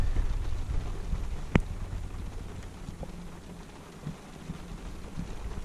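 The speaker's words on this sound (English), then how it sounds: "stay safe in this heavy rain" Steady rainfall hisses throughout, broad and continuous, with a sharp crack or snap partway through and a few faint low rumbles underneath.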